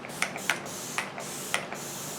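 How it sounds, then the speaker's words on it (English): Several short, soft hissing bursts of facial mist spray, spaced irregularly, close by in a quiet room. "now while my lipstick dries, I'm going to spray my face"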